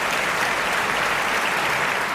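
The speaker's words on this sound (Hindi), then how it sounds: "इस तरह से नहीं, जरा जोरदार ताली उठती है तब कभी खुलता है।" Audience at a Hindi kavi sammelan poetry recital breaks into steady, dense applause, many hands clapping continuously and loudly throughout with no speech over it.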